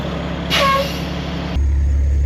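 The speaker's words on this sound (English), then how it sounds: "Just filling up this one low tire right now" Compressed air hisses into a low tire on an Oshkosh 10x10 military truck in a yard, a steady loud rush with a brief sharper burst near the start as the air chuck seats on the valve.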